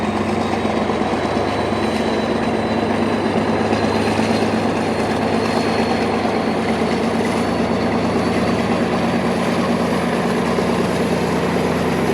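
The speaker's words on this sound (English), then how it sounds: "At Porserão, the 1931 passes a stabled sister locomotive waiting for its next tour of duty." A Portuguese Railways Class 1931 diesel locomotive passes at Porserão beside a stabled sister engine, a loud, steady rumble of engine and rolling wheels with rhythmic clickety-clack and a faint wheel squeal throughout.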